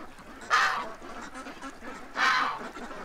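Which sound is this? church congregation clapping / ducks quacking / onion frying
ducks quacking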